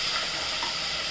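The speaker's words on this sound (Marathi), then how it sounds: "त्याच्यात आपण कांदा टाकूया बारीक चिरलेला" Finely chopped onion goes into hot oil with mustard seeds and curry leaves and fries with a loud, continuous, close sizzle and a hiss that stays even throughout.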